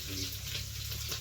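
Green chillies dropped into hot oil with already spluttered mustard seeds, giving a steady loud hiss and crackle of frying, close up and continuous.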